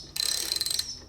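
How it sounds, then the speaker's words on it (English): A ratchet wrench loosens a tight nut on a VL250 bobber motorcycle: a quick burst of about a dozen crisp, close clicks lasting under a second, then a short fading tail. "I'm just going to crack this nut here."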